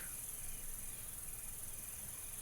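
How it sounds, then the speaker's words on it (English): Crickets chirp steadily in a video game, a dense high-pitched trill that carries evenly through the whole stretch with no voices over it. "how come the crickets just like stopped? I mean, now they're back."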